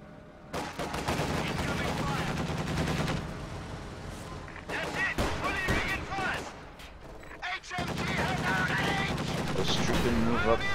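Battle sounds in a World War II strategy game, with dense overlapping gunfire and explosions rumbling almost continuously and a voice talking over the combat.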